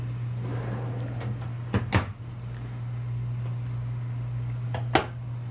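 Deep drawer in a Newmar Ventana 4037 motor coach, sliding and bumping shut with two quick knocks close together, then a single sharp clack a few seconds later, over a steady low appliance hum indoors.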